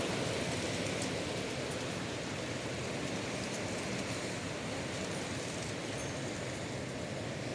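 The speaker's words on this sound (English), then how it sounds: "But it is really windy." Strong Midwest wind blows outdoors as a steady, dense roar of broadband rushing noise that hardly lets up and has no clear gusts or other sounds.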